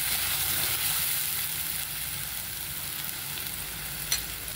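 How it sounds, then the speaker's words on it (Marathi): A freshly ground masala paste for a village-style drumstick amti fries in a pan until browned. A loud, constant close sizzle runs throughout, with a single light clink near the end. "खरपूस आपल्याला हा मसाला परतून घ्यायचा आहे"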